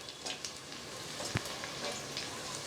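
Green chilies and ginger sizzling in hot ghee while ghee rice is cooked, a soft, steady crackle and spit close by, faint and continuous with a few brief pops.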